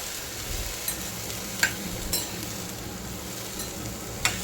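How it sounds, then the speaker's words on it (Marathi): Broad beans, potato and drumsticks sauté in hot oil, a steady crackling sizzle broken by a few sharp clinks of a spoon stirring the pan, close and with no talk. "हे पण आपल्याला चांगलं तेलामध्ये परतून घ्यायचं आहे"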